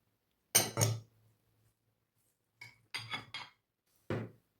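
A spoon or utensil stirs a salad of green peas, boiled egg and beef in a bowl, giving a few separate clinking scrapes in short bursts with quiet gaps between them.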